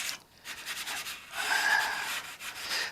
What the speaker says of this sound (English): I'm sanding off any dirt nibs, anything that got in the dope while it was drying.